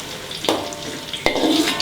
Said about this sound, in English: Also cook the garlic until it's soft